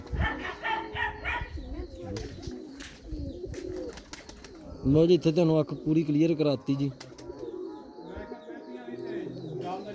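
Pigeons at a breeder's loft coo repeatedly in the background, with a louder run of calls midway, while someone talks over them throughout.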